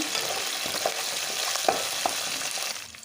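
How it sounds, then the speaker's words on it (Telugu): Curry leaves, mint and green chillies fry in hot oil over a low flame for a fish curry, a soft continuous sizzle with small crackles and pops, fading slightly at the end. "కరివేపాకు పుదీనా వీటినైతే ఆయిల్లో మంచిగా వేగనియాలి లో ఫ్లేమ్ మీదనే"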